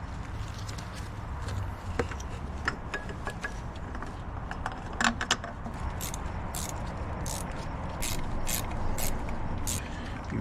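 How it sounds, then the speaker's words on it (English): Ratchet clicking as bolts are tightened into aluminum on a BMW B58 engine, a rapid series of close, crisp pawl ticks over a steady low background hum, growing more regular toward the end. "Be very careful tightening these because it's aluminum and you'll lose those threads real fast."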